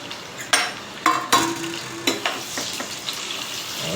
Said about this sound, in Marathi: लाल होईपर्यंत कांदा जरा भाजून घ्यावा त्याला